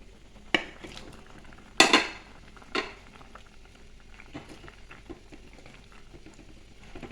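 Sardine and mango curry simmers in a pot, a soft continuous bubbling broken by a few sharp clanks of a utensil against the pot, with no talking.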